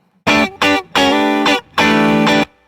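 Distorted electric guitar through a Universal Audio amp in lead mode, boost on, bright switch engaged: four crisp, punchy chord hits in an uneven rhythm, the last two held longer, played loud and up front with no voices.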